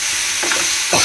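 Taruli slices seasoned with salt and turmeric frying in a pan, a bright constant sizzle with two short scraping stirs of a spatula, close and alone.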